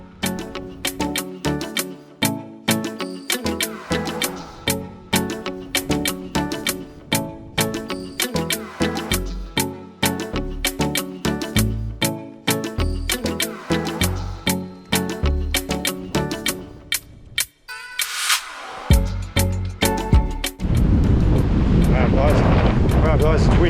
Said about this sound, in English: it's windy. I'm sure you can hear that coming through the microphone.